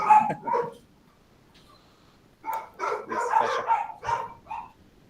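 Several dogs bark in bursts, a couple of sharp yaps first, then a longer flurry of overlapping barks after a short pause, fairly close.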